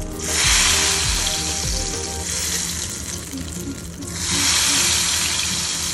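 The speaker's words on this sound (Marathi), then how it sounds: "जेव्हा तुमचं ऑइल एकदम व्यवस्थित छान असं गरम झालेलं असते तेव्हाच तुम्ही हे घेवरचे ड्रॉप बाय ड्रॉप ॲड करायला चालू करायचं" Ghevar batter poured drop by drop into hot oil sizzles loudly and steadily, a dense crackling hiss swelling as each pour hits the pan, with a brief dip midway before rising again.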